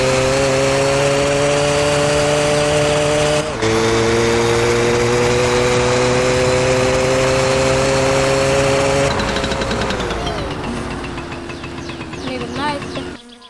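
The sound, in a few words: engine starting on first kick in My Summer Car video game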